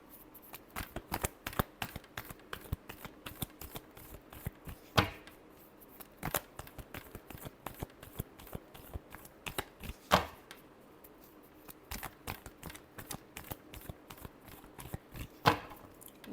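A tarot deck shuffled by hand for a Virgo love reading makes continuous close, crisp riffling and tapping with a few sharper slaps spaced through it, heard alone without speech.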